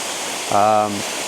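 Steady, close rushing roar of a waterfall in Yorkshire pours on as a continuous wash of water noise, with a brief voiced sound from a person rising over it for a moment.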